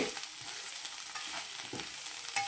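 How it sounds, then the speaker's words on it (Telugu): Prawn shells sizzle steadily in a hot pan, a continuous crackling hiss with occasional stirring scrapes, close and fairly loud, no voices. "ఈ రొయ్యపట్టుని ఇలా వేయించుకోవాలండి."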